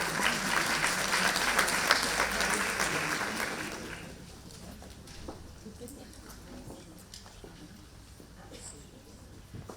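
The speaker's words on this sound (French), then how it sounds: "On peut l'applaudir, je crois." Audience applauding at an awareness-day event, a full burst of clapping for about four seconds that then fades away, followed by low room noise and scattered sounds as a speaker begins.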